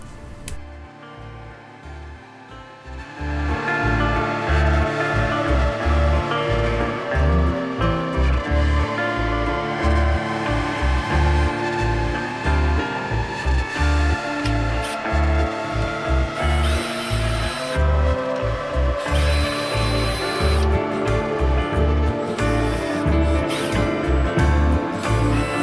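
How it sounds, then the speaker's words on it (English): A power drill whirs steadily and loudly for most of the clip, its motor pitch wavering as the bit hollows the mouth of a wooden popper fishing lure, after a brief quieter start. "I'm going to go back and use a drill bit to get me a little bit more of a popper mouth"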